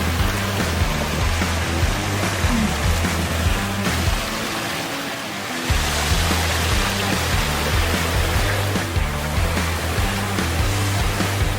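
Water pours steadily down a backyard waterfall feature in a newly planted landscape, a continuous close rushing and splashing that holds even and loud throughout, with only a brief dip near the middle.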